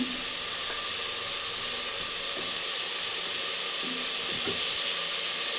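Tomatoes frying with mint leaves in a pan for mutton biryani, producing a loud, steady hissing sizzle with occasional stirring clicks, continuous and close with no voices.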